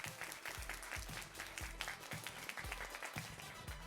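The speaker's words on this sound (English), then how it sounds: "Big round of applause." Audience applause fills the hall at a state 6A quiz bowl championship award ceremony, steady and dense from start to finish, with a few low thumps scattered through the clapping.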